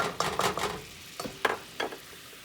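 A whisk scrapes flour into melted butter in a pan, several quick rhythmic strokes in two short bursts over a faint sizzle, close and fairly quiet.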